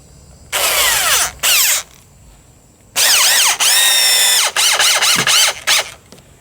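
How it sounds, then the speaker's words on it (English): A power drill drives screws into a wooden 2x4 archery target stand in several close, loud whirring bursts, with the motor pitch rising and falling and a stuttering ratchety run near the end. "Put in my 2 screws."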